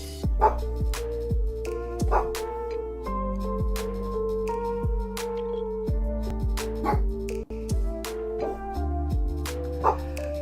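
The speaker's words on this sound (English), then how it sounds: "Apologies that my dogs are barking" Pet dogs barking and yipping indoors in short repeated bursts, fairly close, over a steady game-music background.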